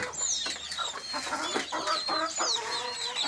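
Native chickens on a multi-storey poultry farm, with many hens clucking and squawking all at once in a busy, overlapping chorus close by.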